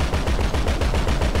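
Rapid automatic gunfire in Grand Theft Auto V, a dense run of loud, evenly spaced shots repeating steadily throughout with no pauses.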